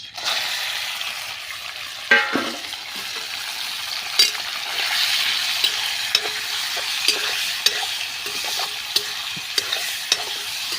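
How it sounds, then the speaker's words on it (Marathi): Chicken pieces fry in oil in a kadhai over a wood-fired stove, giving a steady, close sizzle that runs throughout, with occasional soft stirring clinks and scrapes. "आता चिकन टाकून घेऊया"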